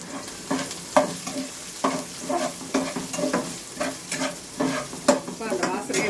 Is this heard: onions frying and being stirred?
yes